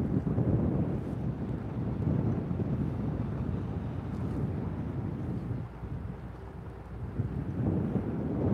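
Steady, loud wind buffets the microphone on a fishing boat out on the water, a dense low roar that continues throughout with slight gusting and no talking.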